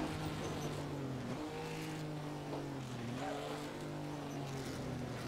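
A 1938 racing car at Donington in the Assetto Corsa racing game drones with a loud, continuous engine note that rises and falls as the car shifts and changes speed, close and steady throughout.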